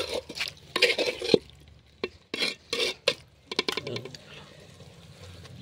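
A utensil scrapes and stirs duck meat curry with potatoes in a pan in short, irregular bursts of clinking and scraping, with quiet gaps between them.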